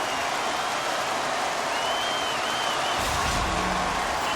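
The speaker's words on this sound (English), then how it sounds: "The Rebels cheering on their player as he goes toe-to-toe in this fight" Hockey arena crowd at a junior Memorial Cup Final game roaring in a steady, dense wash of cheers after a fight, with a commentator talking over it and a brief swell near the end.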